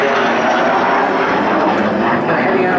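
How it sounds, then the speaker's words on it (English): Hawker Hunter jet aircraft performing a flying display roll, heard as a steady, loud, broadband engine roar that holds constant throughout with no other distinct sounds. "So instead they brought the Hawker Hunter"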